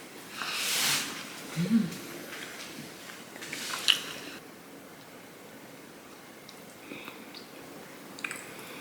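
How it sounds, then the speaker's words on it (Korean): Someone bites into and chews the heel end of a bread loaf up close, with a few soft bites and crusty crunches early on, then quieter mouth sounds. "빵 꼬다리를 좋아하는 편이라서 꼬다리 먼저 먹을게요"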